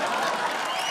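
Loud, dense applause from a comedy show audience for a performer, a steady wash of many hands clapping at close range with no pause.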